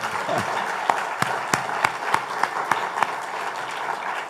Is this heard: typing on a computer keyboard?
no